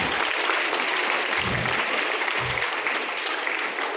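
A crowd at a college speech event claps steadily and loudly throughout, a dense continuous wash of applause with no talking over it.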